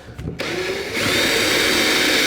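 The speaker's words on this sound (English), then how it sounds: "And again, drilling from the underneath seems to work best." A power drill bores up from underneath into an Otter XT Lodge fish house, starting with a few quick revs before settling into a loud, steady whine that grows stronger as it cuts.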